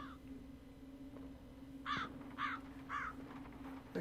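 A crow in the Dead Secret VR game gives three distinct caws spaced about half a second apart, moderately near, over a quiet room hum.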